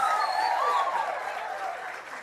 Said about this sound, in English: I would like the people of Dominica to give themselves a round of applause.